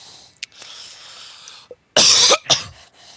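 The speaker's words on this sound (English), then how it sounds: "The merchant coughs." A merchant character in the video game Anima: Escape from Archangel gives a single harsh cough, loud and close, followed by a shorter second hack, with faint murmuring before it.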